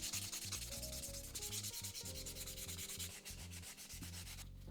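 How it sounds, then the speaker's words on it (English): A nail buffer works over fingernails in quick, steady rubbing strokes. The soft scratchy buffing runs continuously throughout and sits close to the listener. "Taking my buffer really quickly, and we're going to be buffing these nails."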